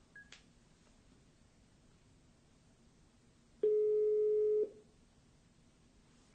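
A telephone call is placed during a live Armenian talk-show broadcast, with brief faint tones followed by a single loud, steady beep of about a second, clear and close with no answer and no talk.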